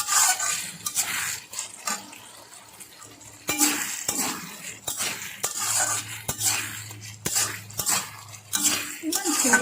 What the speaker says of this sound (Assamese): এতিয়া এইখিনি অলপ লৰাই চাম।